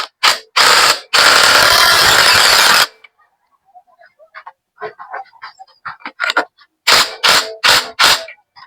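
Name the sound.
tightening motorcycle clutch drum lock nut with a tool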